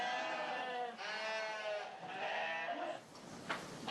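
Stressed sheep, some injured, bleat in several loud, wavering calls from a flock kept safe from wolves, the cries overlapping and following one another closely.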